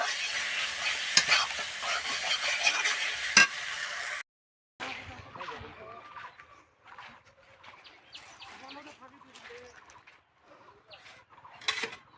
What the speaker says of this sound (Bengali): এবার এর মধ্যে একটু হলুদ গুঁড়ো দিয়ে দিচ্ছি এইভাবে ভালো করে নেড়ে চেড়ে